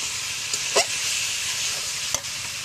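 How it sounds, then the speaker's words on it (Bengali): Meat sautés in a pan for a Bengali kosha dish, a constant close sizzle with occasional soft scrapes and knocks of stirring and no talk. "মাংসগুলো আমি ভালোভাবে কষিয়ে নেবো।"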